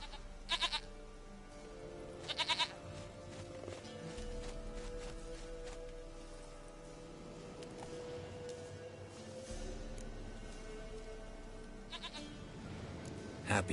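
Short, faint bleats from a goat in The Witcher 3 video game come in brief bursts over a low game background hum, with speech-like sounds in between.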